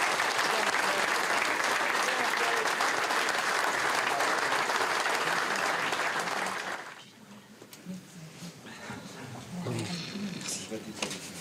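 Loud, dense applause from an audience at a French butcher competition, honoring a finalist, sustained for about seven seconds before cutting off, followed by quieter room sound and someone speaking.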